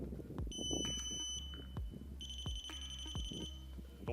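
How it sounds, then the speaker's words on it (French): Electronic beeps from the trigger control unit of a Classic Army Nemesis DE-12 M-LOK airsoft rifle: two long steady high-pitched tones, separated by a short gap, over a low background hum and soft handling clicks. "On va entendre le bip."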